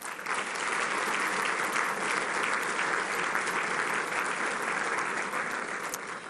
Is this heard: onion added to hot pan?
no